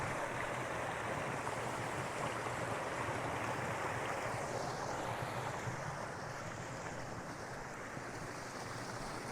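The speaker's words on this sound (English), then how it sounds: "Got this little waterfall going on here." A small waterfall on a clear creek pours steadily, a dense, continuous rush of falling water close by with a faint breath of wind, no voices.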